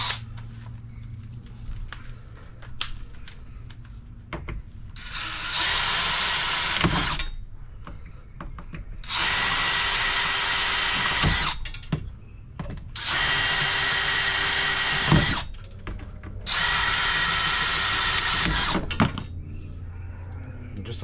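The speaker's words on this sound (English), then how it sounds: "Now what we need to do, drill out these 4 rivets." A power drill bores out four rivets on a 2015 EZ-GO TXT 48V golf cart, running in four loud, steady bursts of a few seconds each with quiet pauses and small clicks between them.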